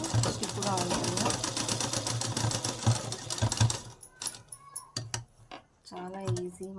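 A sewing machine stitches a small children's face mask, running fast and steady for about four seconds before stopping, followed by a few clicks and a voice speaking.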